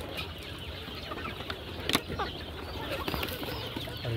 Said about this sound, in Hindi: हमारे जो गोल्डन मुर्गे हैं कितना बड़े हो चुके हैं